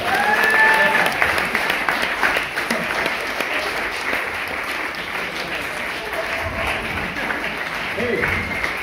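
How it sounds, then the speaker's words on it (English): Cabaret audience applause rings out in a room, strong at first then settling into steady clapping and cheering, with a performer's voice and a few shouts mixed in beneath. "Give yourselves a round of applause"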